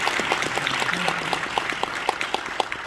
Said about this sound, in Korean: 박수로 한번 축하해 주시겠습니다.